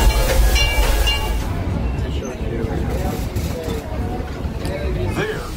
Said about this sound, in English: And the train is here.